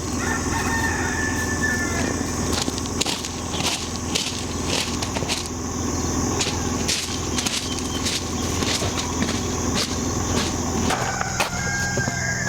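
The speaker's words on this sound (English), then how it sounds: "Good morning, Mrs. Turkey." Poultry on an off-grid homestead, believed to be a turkey, calls over and over in a busy, continuous stream of clucking and crowing-like cries, fairly near, with no one talking.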